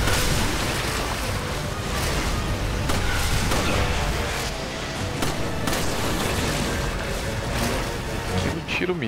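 Gunshots in Resident Evil 5 during the Oil Field chapter, with repeated booming shots rising out of a dense, continuous roar of game noise and explosions that stays loud the whole time.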